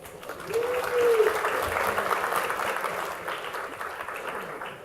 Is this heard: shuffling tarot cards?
no